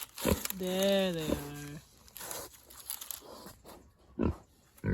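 Pigs on a farm in Portugal make one drawn-out, tonal squealing call near the start, followed by short grunts and snuffling noises at close range.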